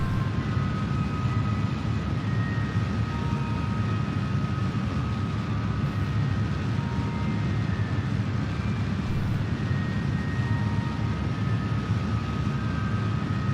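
A rocket engine lifting off from the lunar surface in a video game makes a dense, steady roar with a low rumble and faint tonal hum, unchanging and loud throughout.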